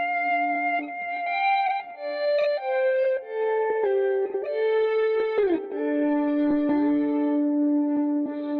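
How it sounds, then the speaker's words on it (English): A warped tape swell sample from a drum kit plays on the root note, sustained tonal notes bending and sliding in pitch, close and steady, with no talk. "I went through one of my drum kits and I found this weird tape swell and I just put it on like the root note"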